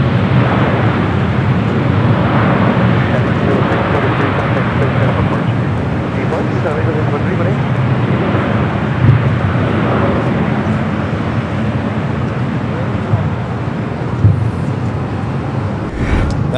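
A Boeing 787-8 Dreamliner arriving at LAX from Tokyo Haneda makes a broad, continuous jet roar that stays loud and steady, with a brief clatter near the end.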